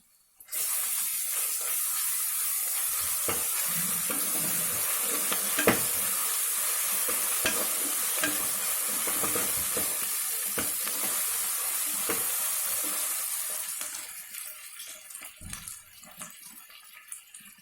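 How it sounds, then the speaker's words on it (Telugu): Onions fry loudly with ginger garlic paste in a hot pan, a dense, continuous hissing sizzle lasting well over ten seconds before easing off into quieter crackles. "ఆనియన్స్ వేగుతున్నాయి కదా, ఇప్పుడు ఒక ఇంచు అల్లం వెల్లుల్లిపాయ ఒకటి కలిపి పేస్ట్ చేసిన ముద్ద ఒక స్పూన్ వేయండి"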